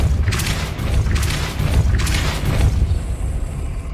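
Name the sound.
Depulso spell blast in video game Hogwarts Legacy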